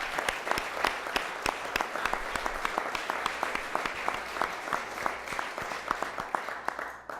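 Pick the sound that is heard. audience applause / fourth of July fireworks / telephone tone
audience applause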